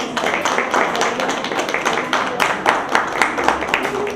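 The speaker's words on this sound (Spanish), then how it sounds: "Un aplauso para ella." Applause from an audience at a public conversation on government transparency, dense steady clapping that fills the whole stretch at close, fairly loud level.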